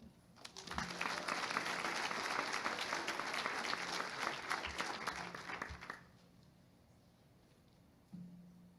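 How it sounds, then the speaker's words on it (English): A crowd at a high school FFA awards banquet claps steadily for about five seconds, a dense, lively burst of applause that then stops abruptly, leaving quiet room tone. "Let's give them another round of applause."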